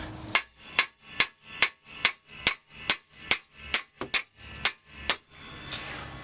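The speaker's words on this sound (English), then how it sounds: "now when you hammer right here, it should pop off" A hammer strikes metal about twelve times in a steady rhythm, each blow a sharp, ringing clang, close and loud.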